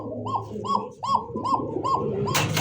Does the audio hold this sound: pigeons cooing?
yes